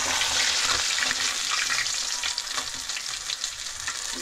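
Grouper (lapu-lapu) head frying in hot oil, a dense continuous sizzle and crackle, loud and close throughout.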